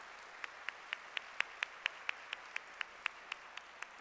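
Steady, sparse clapping at the 2009 Technology Stars Awards Gala after a band performs: single sharp claps at an even pace, about four per second, sounding fairly faint and distant.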